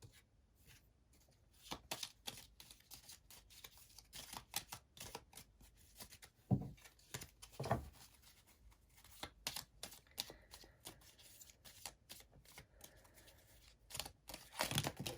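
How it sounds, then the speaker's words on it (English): Close-up shuffling of chakra oracle cards: rapid papery riffles and flicks in uneven bursts, with soft handling noises between them and no speech. "let's shuffle up some chakra love cards."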